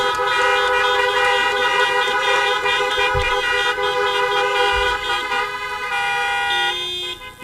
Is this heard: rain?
no